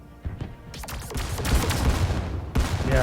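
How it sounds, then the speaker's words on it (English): A space station in the video game StarDrive 2 fires rapid bursts of lasers: a dense, rumbling barrage of overlapping gunfire-like blasts that swells louder midway, with a sharp fresh volley near the end. "the station is kicking out a lot of firepower"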